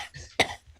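One short, sharp cough right at the mic, with faint breathy sounds before and after it.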